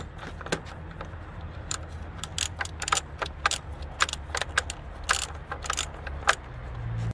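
Socket wrench with a 13 mm socket loosening the battery holder screw in a 2001-2007 Dodge Grand Caravan, a run of sharp metallic ratcheting clicks and jangles, close and irregular.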